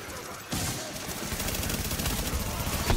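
Rapid, sustained gunfire from the video game The Division erupts after a brief lull, with dense bursts of shots repeating at close range and loud throughout.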